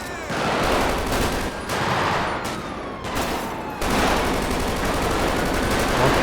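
Dense, sustained gunfire from a GTA 5 police special-operations shootout, with overlapping automatic bursts and rapid shots filling the whole stretch at close range, some voice faintly mixed underneath.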